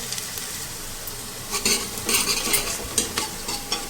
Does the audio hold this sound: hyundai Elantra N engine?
no